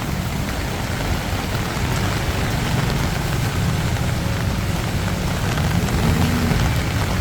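Monsoon rain falls steadily in Bangkok during the rainy season, a dense, even hiss of heavy downpour on surfaces, constant and close with no voices.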